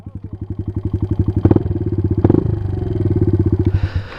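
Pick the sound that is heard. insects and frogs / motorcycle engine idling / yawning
motorcycle engine idling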